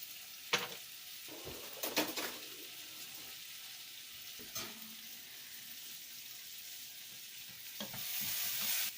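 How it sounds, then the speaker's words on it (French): Vegetables for a squash soup sizzle steadily in a pan, a soft continuous frying hiss broken by a few sharp stirring scrapes and clanks, swelling louder toward the end. "mes légumes sont toujours en train de cuire"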